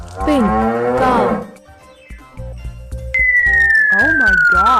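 A cow moos in a loud, sliding call near the start, followed by whistling tones and a second wavering moo-like call at the end.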